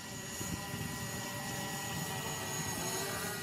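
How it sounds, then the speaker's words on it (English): A DJI Spark or Mavic Pro drone hovers somewhere overhead, giving a steady, even whir of propeller hum that holds unchanged throughout with no talking. "Drone is above my head somewhere."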